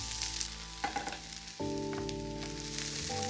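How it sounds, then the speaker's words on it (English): Special fried rice with its previously pan-fried ingredients sizzling and being tossed in a pan, a constant close hiss with a few soft scrapes and knocks of stirring, no talking. "Now we're going to add all of the ingredients that we had initially pan fried, put that into the pan and mix it through"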